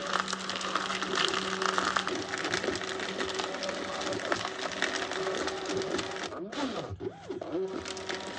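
An American 180 automatic drum loader runs with a steady mechanical whir and clatter, a constant motor hum throughout and a brief change in pitch near the end as the hopper spins backwards.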